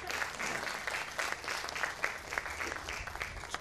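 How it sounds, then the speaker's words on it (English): Comedy club audience applauding for Al Green, a steady dense wash of many hands clapping, moderately loud and continuous throughout with no speech over it. "can we get a round of applause for Al Green?"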